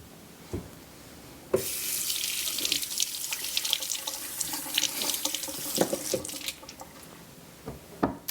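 Tap water runs steadily into a kitchen sink as potatoes are washed under it for a summer potato salad, a continuous splashing stream that starts abruptly and carries occasional drips and knocks. No one speaks.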